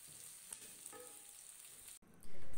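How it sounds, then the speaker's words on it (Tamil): Steady frying sizzle of onions and curry leaves sautéing in a pan, continuous and close, with a few light clinks before the sound briefly cuts and returns louder. "வெங்காயம் நல்லா பொன்னிடம் ஆகிற வரையும் நல்லா வதக்கி எடுத்துக்கலாம்"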